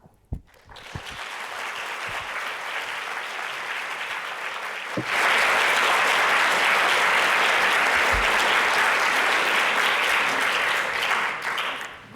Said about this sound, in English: I hope you could hear the round of applause, Brenda, from here, from the room